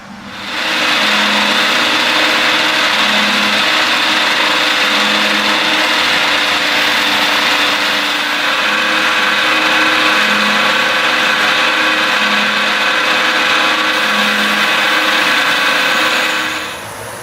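CNC machine cutting a dovetail pocket into a Glock 19 slide, a loud continuous high whine of the spindle and cutter with a faint repeating hum pulsing beneath it, steady throughout.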